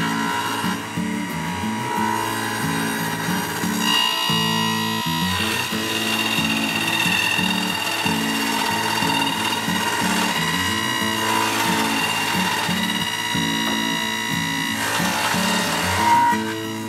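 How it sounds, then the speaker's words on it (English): A table saw cuts a dado in a scrap piece of wood while a beehive screened bottom board is being built. The blade whines steadily and loudly, and the load rises and falls rhythmically as the wood is fed through. "when your first cut is to set the dado, so you want to use a scrap piece of wood"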